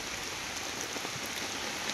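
Rain falls steadily over a mango orchard, a soft, even hiss of drops on leaves and ground at moderate distance, with no voices.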